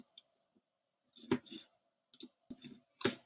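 A computer mouse clicks several times in short, sharp bursts close to the microphone, separated by quiet gaps in an otherwise silent room.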